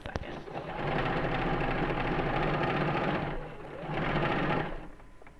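Sewing machine stitching around the edge of a fabric blanket, a close, steady whirring hum in two runs with a short pause between them, no talk over it.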